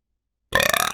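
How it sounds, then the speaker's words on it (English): A single loud, close burp bursts out after half a second of silence, a rough, throaty eruption with a rattling pulse that holds to the end. "he burped directly in my face"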